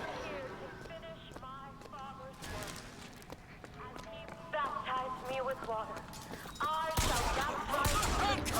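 Gunfire in Bioshock Infinite, with sharp shots and bursts scattered among game sounds and someone talking throughout, and a louder, denser burst of firing near the end.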